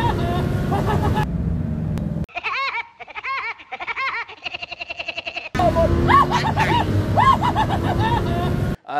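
A modified 2500 bhp Lamborghini Huracán accelerates hard on a drag strip, its loud engine roaring with rising revs and gear-shift breaks, dropping briefly before a full-throttle surge returns.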